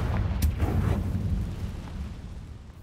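Confringo blasting spell explosions in the video game Hogwarts Legacy: a loud, deep burst near the start with a second crack just after, then a rumbling tail that slowly fades over a few seconds.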